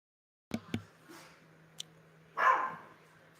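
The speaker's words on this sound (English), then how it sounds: "There's a few dogs now." A few dogs barking indoors, two sharp close barks followed by a fainter one and a longer, louder bark burst, with quiet pauses between.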